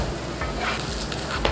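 A mixed veg parotta frying in oil on a street-food pan over low flame, giving a steady close sizzle with a faint clink near the end.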